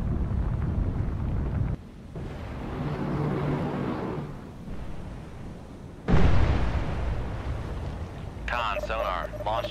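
A vertical launch system missile firing from an Arleigh Burke class destroyer in the Cold Waters naval game: two loud roaring whooshes with a sudden onset, each fading into sustained rushing noise, while a voice speaks alongside.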